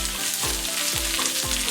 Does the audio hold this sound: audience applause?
no